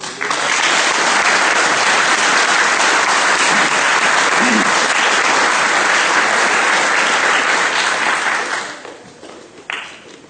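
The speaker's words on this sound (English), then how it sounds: "Let's have a round of applause, please." An audience applauds at a high school National Honor Society ceremony in Watervliet. Loud, sustained clapping carries for over eight seconds, then tapers off with a few scattered claps.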